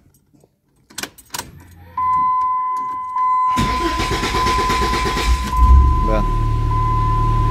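A Dodge Stratus with high fuel consumption starts up after clicks and key jangles, then idles loudly and steadily up close as a warning tone beeps, with someone speaking briefly and a rev near the end.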